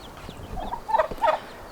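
Short bursts of poultry calls, a turkey gobble and hen clucks, heard close over a faint outdoor background.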